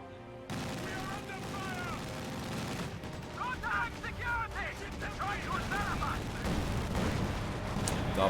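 Mortar fire from a 120 mm mortar in the strategy game Company of Heroes 2, with repeated booming shots and battle noise running under a commentator's steady narration.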